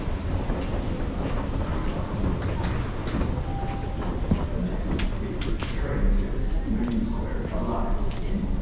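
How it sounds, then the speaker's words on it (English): MBTA Orange Line subway train arriving at North Station in Boston: a steady, loud rumble with clattering wheel noise and brief squeals, echoing through the underground platform. "the next Orange Line train to Oak Grove is now arriving"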